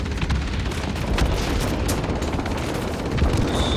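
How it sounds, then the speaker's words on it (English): Sustained gunfire and booming from a B-17G Flying Fortress bomber in World of Warplanes, a dense, continuous rumbling barrage of rapid shots with brief louder bursts, no talking. "Getting maximum guns on target right now."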